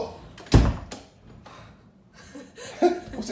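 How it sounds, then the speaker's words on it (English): An interior door swings shut with a single sharp thud near the half-second mark during a windy storm, followed by faint shuffling and light room noise. "Close the door."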